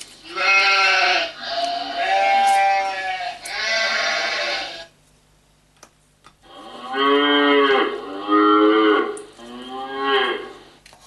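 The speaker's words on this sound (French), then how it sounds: "Vache." A cow moo sound played from an Arduino-built children's toy prototype: two long, full, loud moos separated by a short gap of near-silence, with no voices.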